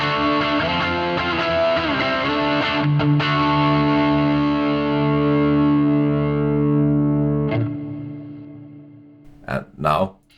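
Electric guitar played through a chain of pedalboard effects pedals, a distorted, layered tone with chorus and reverb holding a long sustained chord that slowly decays, followed by a few short picked notes near the end.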